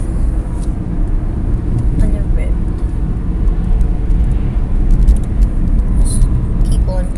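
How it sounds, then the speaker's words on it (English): Steady low rumble of a car driving along a road with a mother at the wheel, continuous road and engine noise throughout, with voices talking inside the car. "Driving with my mom."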